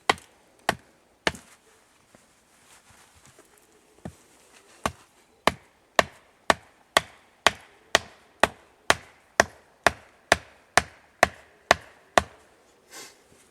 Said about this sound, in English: If you're going to nail a post into the ground, place your foot against the base of the post itself.